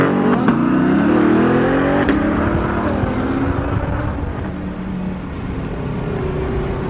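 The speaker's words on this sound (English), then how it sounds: "I guess my car is still shooting green flames" A twin-turbo Lamborghini engine roars loudly and steadily on a city street, with sharp pops and bangs breaking through the drone as it revs.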